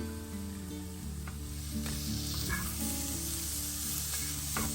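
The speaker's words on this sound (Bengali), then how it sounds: "গার্লিকগুলোতে ভেজে নিয়ে আসি।" Garlic frying in a pan over a low flame for a Bangladeshi vorta, a steady close sizzle with occasional stirring scrapes over a constant humming background, no speech.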